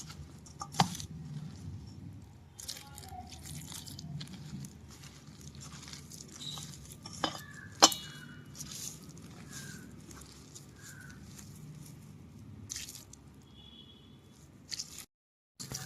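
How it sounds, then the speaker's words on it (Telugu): Soft, wet squishing and slapping of hands working a thick onion pakoda batter with water, irregular and close, with occasional sharper taps and faint background sounds. "నీళ్ళు పోసుకొని కొంచెం కొంచెంగా కలుపుకుందాము"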